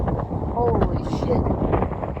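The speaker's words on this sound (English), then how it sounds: "The wind is blowing so hardcore, man." Strong tornado winds roar steadily and buffet the microphone, with loud rumbling gusts and low-frequency turbulence throughout and a voice talking underneath.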